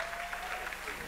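Concert audience applauding after a singer is introduced to perform a song, a steady wash of clapping throughout with a voice speaking over it.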